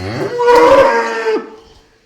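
A single loud, close moo from a Khillar cow, drawn out for over a second before trailing off.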